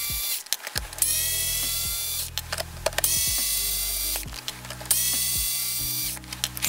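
Small power driver spinning out the steering servo screws on an Axial Capra RC crawler axle, several short whirring bursts with brief pauses between them, close and fairly loud.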